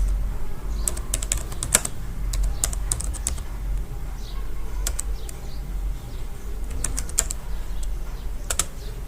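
Rapid keystrokes on a computer keyboard come in short irregular bursts against a steady low room hum, close and clear, with no one speaking.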